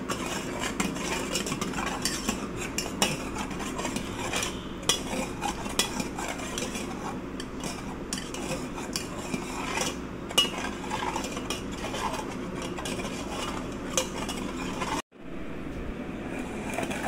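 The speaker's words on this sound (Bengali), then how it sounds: "আমি তাড়াতাড়ি মিক্স করে নিচ্ছি, না যেন এটা বেশি সুন্দর করে গুলিয়ে যায়।" Ingredients being mixed quickly in a bowl by hand, a steady scraping and clinking of a utensil against the bowl that runs continuously and close, with a brief break near the end.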